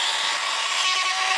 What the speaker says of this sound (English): take Dremel with sandpaper bit. No Dremel, look, it's cool one from Lidl.